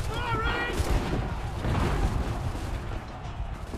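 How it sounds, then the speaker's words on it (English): Cannon fire during a battle in Assassin's Creed 3, a rumbling, booming barrage of artillery and gunfire rolling on continuously in the background. "Oh, cannon fire now."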